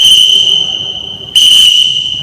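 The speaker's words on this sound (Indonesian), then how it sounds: "Tiupannya peluit juga sekali, bertenaga dan panjang" A loud, high, steady whistle tone sounds in two sustained blasts, the second starting abruptly after a short dip, with no talking.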